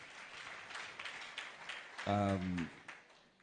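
Audience at a university alumni dinner clapping, a moderate spread of hand claps under a brief loud voice in the middle.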